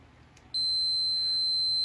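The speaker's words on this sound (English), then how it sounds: "So you get a beep because there's no break in this line." A multimeter continuity test sounds while a furnace pressure switch is being checked: after a quiet half second, a single loud, sustained high-pitched beep starts and holds steadily to the end.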